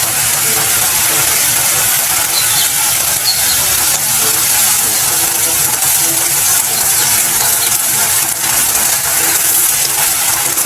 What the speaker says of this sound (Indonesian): jika diaduk pinggirannya sudah mulai berbuih putih, tandanya bumbu sudah mulai mengkaramel